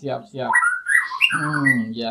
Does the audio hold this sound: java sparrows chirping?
yes